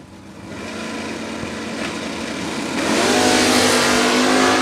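Drag race door cars launching down the track, engines building from a steady roar into a louder, brighter high-revving scream that holds near the end, with no voices.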